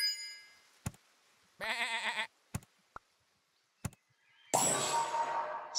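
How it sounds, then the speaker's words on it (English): Sheep bleating in the video game Super Auto Pets, a short wavering bleat followed by a louder, longer one near the end, separated by a few sharp clicks and knocks over silence. "sheep is better than a mosquito."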